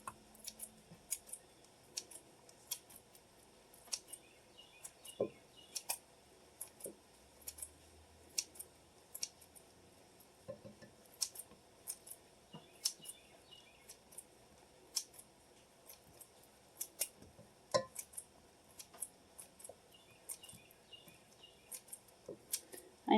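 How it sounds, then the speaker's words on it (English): Kitchen shears snip a thin brick of cheese straight into a Dutch oven dish for a Frito pie, making crisp, quiet, close cuts repeated at an uneven pace over near silence. "I'm just going to take my shears and cut it into the dish"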